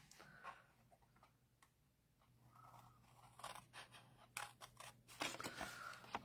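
Metal snips cutting squares off the top of a gift box in a Christmas craft: faint, quiet crisp clicks and snips scattered irregularly, growing busier toward the end over a low steady hum.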